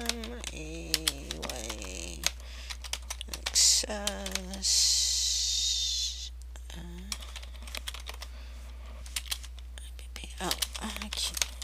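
Quick bursts of keyboard typing while writing instructions in Microsoft Word for in-the-hoop embroidery projects, close up and intermittent, with soft talking over the clicks.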